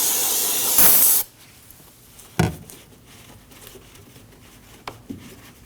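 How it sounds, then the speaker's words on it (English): An aerosol can of brake parts cleaner sprays around the brake fluid reservoir cap of a 2003-2006 Subaru Baja, a loud hissing burst lasting about a second, followed by quieter handling noises and a couple of short clicks. "We'll use our brake parts cleaner and clean around the cap."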